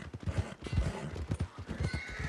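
Horse hooves clip-clop in a quick, uneven rhythm in the Red Dead Redemption game, close but fairly soft, with a brief neigh mixed into the steady footfalls.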